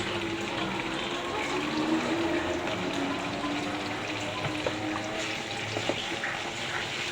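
Onions lightly fried in a pan with onion paste and ginger-garlic paste added, cooking for a milk chicken curry; a steady close sizzle and bubbling hiss runs throughout with scattered small pops.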